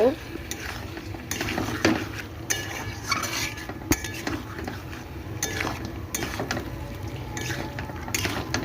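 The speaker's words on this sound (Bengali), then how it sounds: "আলুটাকে ভালো করে মাংসের সাথে মিশিয়ে নেব" Potatoes being stirred into meat curry in a pot, a spoon scraping and clattering repeatedly against the metal with rhythmic knocks over a soft sizzle, fairly close.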